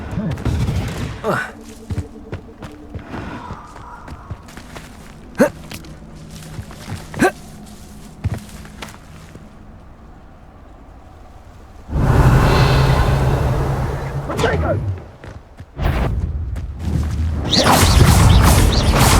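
Spell blasts from the video game Hogwarts Legacy: a string of sharp magical bursts and whooshes, with a sustained loud fiery roar near the end, heard during combat over a bed of game ambience.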